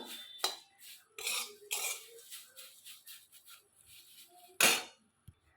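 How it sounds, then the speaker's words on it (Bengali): Fried neem leaves are tipped from a pan into a dish, giving scattered utensil scrapes, rustles and clinks, with one sharp metallic clatter near the end, close and quiet with gaps between. "নিম পাতা ভাজা হয়ে গেছে একটা জায়গার মধ্যে ঢেলে নেবো"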